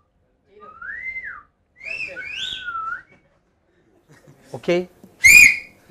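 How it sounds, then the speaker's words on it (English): Several people whistle one after another in a loudest-whistle contest, starting with sliding, wavering tones and ending in a sharp, piercing blast, with a brief spoken word between them. "Who can whistle loudest?"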